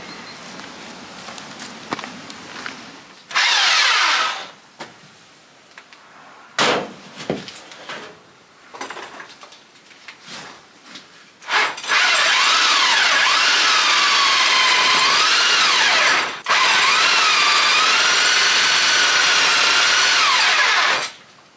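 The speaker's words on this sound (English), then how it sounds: "I've drilled through from this side with the big bits, gone around the outside, the pilot several times." A power drill with a 30mm bit bores through a thick cottage stone wall, running loud and close in short bursts and then long sustained runs, its pitch wavering as it bites, with handling knocks between.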